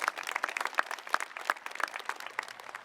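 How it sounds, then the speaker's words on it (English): Applause from an audience at a high school commencement ceremony, a moderate crowd clapping steadily for a few seconds with some sharper nearby claps above the blended patter. "Students, let's give your families a big round of applause and thank them."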